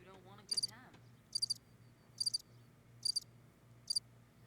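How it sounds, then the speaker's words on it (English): Five short, bright cricket chirps from a mixing board's sound-effect button sound at an even pace, each a quick trilled burst, after a faint voice at the very start. "Like I can do some crickets."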